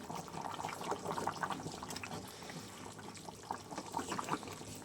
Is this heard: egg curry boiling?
yes